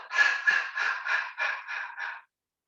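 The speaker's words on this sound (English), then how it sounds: "you breathe out through the mouth, but you're going to make like a ha sound." Qigong breathing exercise: a series of seven breathy mouth exhalations with a soft open ha sound, evenly spaced and close, ending in silence.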